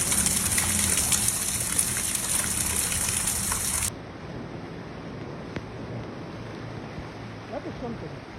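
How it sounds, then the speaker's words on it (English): Steady rain from a flooding storm in Miami, Florida pours down in a continuous hiss, with water rushing and splashing, loud and close, shifting to a duller wash partway through. "We needed the rain"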